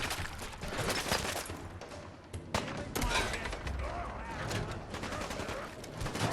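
Gunfire in the Fallout 4 Far Harbor video game cracks repeatedly at irregular intervals, moderately loud, mixed with ongoing talking.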